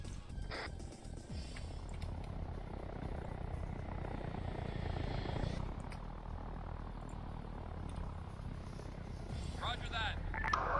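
Helicopter in the Arma 3 military game, a steady rotor and engine drone running continuously at moderate distance beneath radio-style chatter, with a few brief sharper noises near the start and end.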